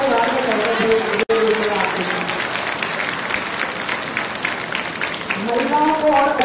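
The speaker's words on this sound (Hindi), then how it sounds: "तो जोर से ताली बजाओ" An audience at a women's reservation felicitation event in Rajasthan breaks into loud, sustained clapping that fades briefly midway, then builds again near the end.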